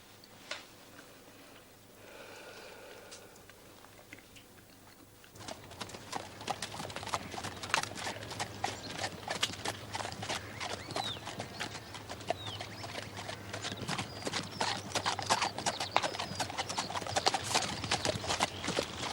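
Steady clip-clop of a lame horse's hooves on a hard surface, a brisk rhythmic clatter that starts after a few quiet seconds and continues close by.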